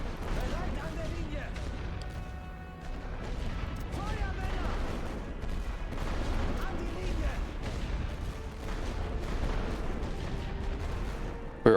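Gunfire in The Great War: Western Front, a continuous low rumble of distant battle with scattered muffled shots and booms, while a voice talks over it.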